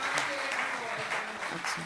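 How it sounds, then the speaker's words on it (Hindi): Audience applause at a Hindi poetry recital, a steady wash of clapping from a crowd heard at moderate distance, lasting throughout without pause. "मैं चाहूंगा तालियां।"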